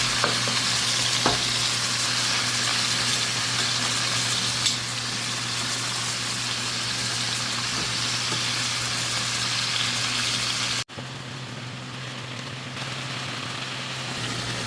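Food frying in a pan with a steady loud sizzle and crackle throughout, a brief clink of a utensil as pieces are turned, then the sizzle drops sharply near the end as the pan is pulled off the heat.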